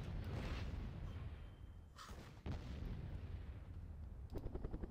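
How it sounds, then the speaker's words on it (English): Booming cannon blasts and gunfire from a game battle, with dense low rumbling, a sharp impact near the middle, and rapid bursts of shots toward the end. "There is Leonardo trying to scorch these cannons."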